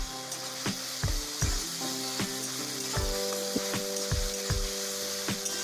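A bay leaf drops into hot oil for a desi chicken curry and sizzles steadily, with sharp crackles and pops scattered through a constant frying hiss, close and moderately loud, with no talking.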